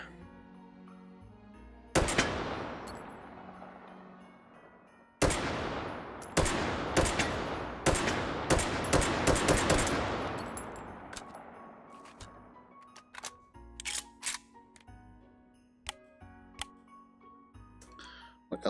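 Gunfire from weapons in the VR video game Hot Dogs, Horseshoes & Hand Grenades: sharp single shots and rapid bursts, some loud and echoing, others quicker clusters, with short quiet gaps between them.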